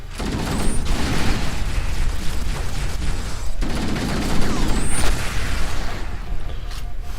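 Grenade explosions and gunfire in the Halo CE campaign while defending survivors from Covenant attacks, booming blasts near 0 and 3.5 seconds over a continuous roar of battle and weapon fire.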